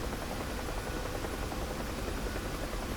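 Huey helicopter in the DCS flight simulator during an autorotation, a steady dense rotor and turbine wash that stays loud and unbroken throughout.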